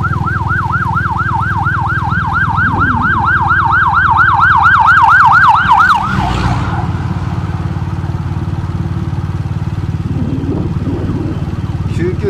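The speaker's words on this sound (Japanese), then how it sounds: "うわ 救急車ですね。" An ambulance siren wailing in a rapid rising-and-falling cycle over street traffic noise, loud and close for several seconds before cutting off and fading as it passes.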